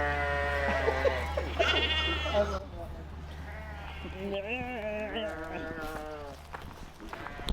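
Sheep bleating on a farm, several wavering calls close by, mixed with people talking and a steady low background hum.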